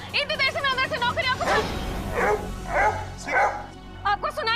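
A dog barks repeatedly in short bursts, fairly close, while people talk over and between the barks.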